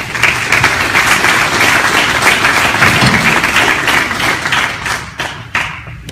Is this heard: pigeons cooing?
no